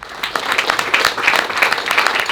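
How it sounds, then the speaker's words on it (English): Short round of audience clapping at a New York poetry reading, a lively patter of hands from a modest crowd, fairly close and uneven in rhythm. "so I give tons of round of applause"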